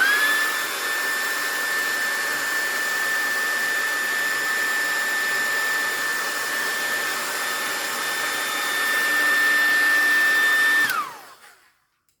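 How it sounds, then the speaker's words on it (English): A noisy handheld craft heat dryer blows with a steady, loud whirring hum and a high whine while drying an envelope journal, running alone for about eleven seconds before it switches off and winds down abruptly. "And then I have to use my noisy dryer."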